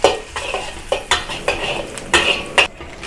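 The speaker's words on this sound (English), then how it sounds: "add the garlic and a dry chili and stir fry until aromatic" Garlic and a dry chili are stir-fried in a wok, with a series of sharp metal spatula scrapes and clanks every half second or so over a soft, low sizzle, close and without talk.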